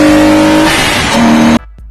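A BMW Z4 E85 with a ram air intake revs loud and close, the engine note rising and sweeping upward before it cuts off sharply into quiet.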